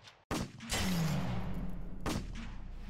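Gunfire in the Roblox Squid Game video game: a sharp shot followed by a dense, sustained burst of rapid fire that stays loud through the rest of the clip, with a second sharp report near the end.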